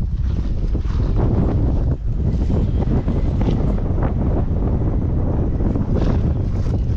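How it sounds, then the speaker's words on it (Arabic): Strong wind roars and buffets the microphone in a constant loud, low rumble outdoors in Tanzania. It goes on without a break and there is no talk. "الريح جاي هكا"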